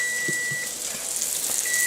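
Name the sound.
kitchen timer beeping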